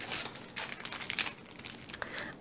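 A pack of glassine bags with a silvery metallic sheen crinkles and rustles as it is handled, a close, quiet run of crisp crackles in short irregular bursts.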